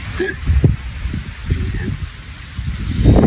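Steady rain patters on surfaces with a low, rushing roar, while voices talk intermittently beneath it.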